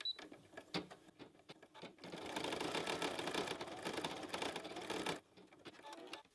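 An embroidery machine stitches an in-the-hoop bunny bookmark in black thread: a few clicks, then a sustained rapid mechanical whirring run of about three seconds that stops abruptly, followed by quieter mechanical noise.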